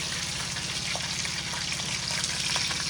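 Chicken pieces frying in hot oil, a steady close sizzle and crackle with a low bubbling hum, continuous and even throughout.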